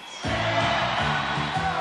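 A crowd at an International Gladiators Hang Tough event roars up suddenly and keeps a steady clamour of cheers and whoops.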